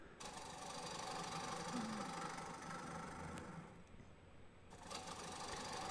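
A wood lathe spins while a walnut bowl's interior is hollowed, producing a faint, steady mechanical whir with light tool scraping throughout.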